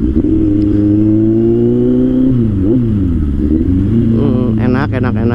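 A Kawasaki Z800 motorcycle engine runs while being ridden, a loud continuous drone that rises and dips with throttle and shifts, building to a higher rev near the end.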